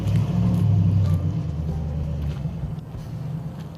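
A G-body car with a tuned LS engine and 4L80 transmission driving during a test, a loud, deep, steady engine rumble that eases slightly after the first second and holds on, heard close with no talk.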